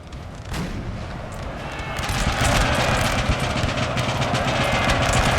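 Artillery fire in a Napoleon: Total War recreation of the 1796 Battle of Mondovi sounds as a dense battlefield din of cannon booms and crackling gunfire. It swells louder and rumbles continuously through the second half.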